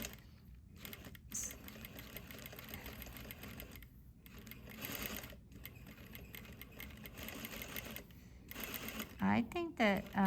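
Domestic sewing machine stitching a gathered back seam on a garment, bursts of fast mechanical whirring separated by brief pauses, close by, with light handling noises and a few clicks near the end.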